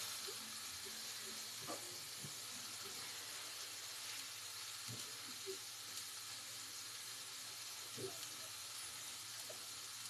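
Chicken cooks in an electric grill with a constant soft sizzling hiss, faint and steady throughout, with a few small pops and clicks scattered over it.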